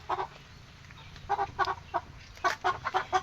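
Chickens of several different breeds cluck in short bursts at a moderate distance, irregular clusters of clucks with brief pauses between them.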